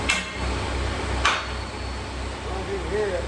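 An Estwing hammer strikes a nail twice, each blow a short metallic ping that rings out briefly over a low background hum, loud and close, with quiet room noise between strikes.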